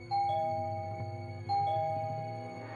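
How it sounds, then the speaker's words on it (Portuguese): A house doorbell chimes a two-tone ding-dong twice in quick succession, clear and close, with no voices. "toquei a campainha."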